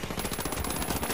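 Rapid automatic gunfire in the video game The Finals rattles in a fast, even burst, quiet and steady throughout.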